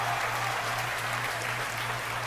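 A crowd cheers and applauds at a SpaceX Falcon Heavy launch, heard as a steady, dense wash of noise over a faint low hum.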